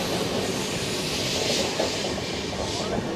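Passenger train with Indian Railways ICF coaches rolling past at close range, a loud, steady rumble and rattle of wheels and carriages throughout with no break.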